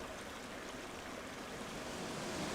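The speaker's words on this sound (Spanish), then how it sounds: "un poco más, un río" A mountain river flows in Aigüestortes, a steady broadband rush of running water with no breaks, heard fairly close and alone throughout.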